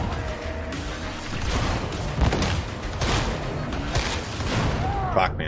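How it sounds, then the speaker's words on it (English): Grenade blasts and heavy gunfire rumble through a chaotic firefight in the co-op shooter Warhammer 40,000: Darktide, dense and loud with repeated booms, while voices shout over the battle. "Grenades out."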